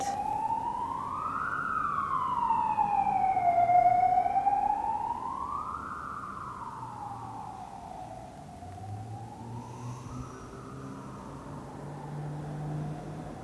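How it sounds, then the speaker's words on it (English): A wailing emergency siren rises and falls in long, slow sweeps, loud at first and gradually fading as it moves away, over low traffic rumble. "Just going to wait for that siren to go past"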